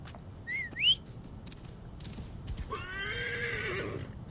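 A horse in Assassin's Creed Origins whinnies in a long, shrill neigh after a few whistling chirps and soft hoof clops, moderately close and clear.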